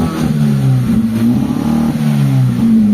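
A Mitsubishi Lancer engine with a misfiring idle revs repeatedly up close, each loud rise and fall in pitch coming in quick, uneven succession.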